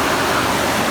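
Creek water rushing through the Crystal Caves near Paradise Valley, Montana, a loud, close, unbroken roar with no pauses.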